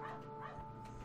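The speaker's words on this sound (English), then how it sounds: "I apologize about if you can hear my dog in the background" A dog barks and yips faintly somewhere in the background of a quiet room, a soft, distant sound under a steady electronic hum.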